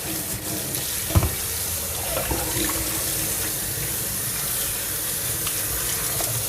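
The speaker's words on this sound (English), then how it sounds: "so our okras are all washed" Tap water runs steadily into a sink while okra is washed under it, a close, constant splashing hiss with a few small knocks of handling and no talking.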